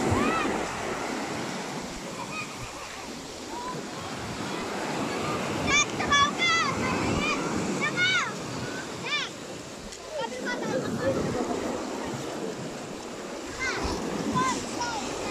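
Continuous rushing surf of sea waves on the beach at Infanta, Quezon, with wind buffeting the microphone and people talking faintly in the background.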